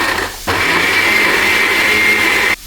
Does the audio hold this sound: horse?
no